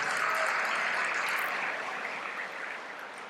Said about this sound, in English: Big round of applause for volunteers.